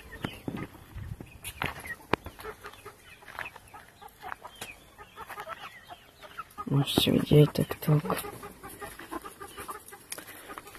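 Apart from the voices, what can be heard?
chickens clucking on a farm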